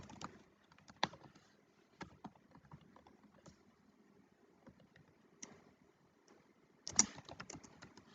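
Sparse, uneven keystrokes as someone types Java code on a computer keyboard in BlueJ, with single clicks and a brief flurry near the end, quiet and close with no talking.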